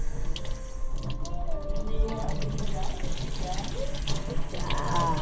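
Tap water runs steadily into a sink during handwashing, a continuous close splash under an adult's speech directed at a child.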